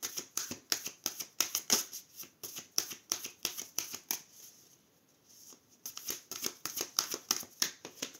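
Tarot cards riffled and shuffled in rapid, crisp bursts, with a short quieter pause midway before the quick flicking resumes, close and clear with no voices.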